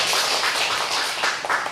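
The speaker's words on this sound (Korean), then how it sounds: "우리 뒤에 오신 두 분을 위해서 박수 한번 보내드리겠습니다." Congregation in a church applauds two newcomers, steady massed clapping close and bright throughout, without speech.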